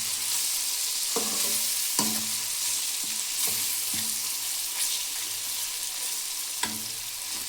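Coriander chutney ingredients frying in a pan, seasoned with a little turmeric, give a steady close sizzle with the scrape and clink of a spoon stirring at irregular moments, and no voices.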